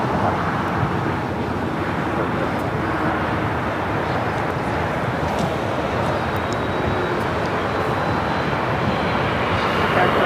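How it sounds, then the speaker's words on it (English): An Air China Cargo Boeing 747 taxis at LAX, a loud continuous broadband engine roar that holds steady for the whole stretch, with a few faint higher clicks on top. "That is the Air China Cargo 747 heading to 25 right here on the south side."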